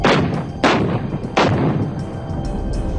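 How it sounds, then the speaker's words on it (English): Indian artillery bombardment during the 1999 Kargil War: three heavy, booming blasts about 0.7 seconds apart, each with a sharp onset and a rumbling tail, over a continuous low battlefield roar. "the remaining units of the Northern Light Infantry began pulling back across the LOC as Indian bombardment continued"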